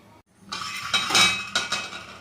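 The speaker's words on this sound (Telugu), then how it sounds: "ఒకసారి మూత పెట్టేసుకోవాలి" A lid set down on a pot of Godavari-style tamarind fish curry, giving a few brief metallic clinks and clatters close by, with no talk.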